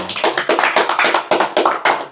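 A small group claps in sharp, uneven bursts for a religious teacher's talk, loud and close, with no voices over it.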